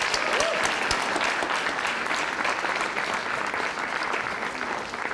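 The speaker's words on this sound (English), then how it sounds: "let's give a round of applause for our health coach graduates" Steady, dense applause from a graduation ceremony audience honoring health coach graduates, a continuous wash of many hands clapping at even loudness throughout.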